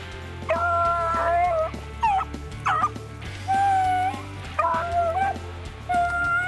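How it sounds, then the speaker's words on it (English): Hunting dogs bark and yelp in bursts while chasing a rabbit on a late-season rabbit hunt. Several voices cry out together in repeated, fairly close outbursts separated by short pauses. "all of a sudden you hear one bark, and then all 4 open up in a dead straight line, barking and running"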